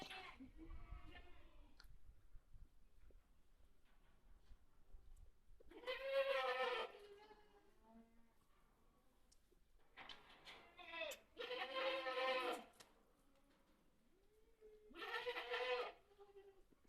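Goats in a farm shed divided into mesh pens give several loud, wavering bleats in separate bursts, with quiet stretches between them and a voice audible at the start.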